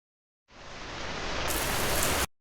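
A heavy rain shower hisses in suddenly as a dense, even downpour, loud and steady for about two seconds before cutting off abruptly, with no voices.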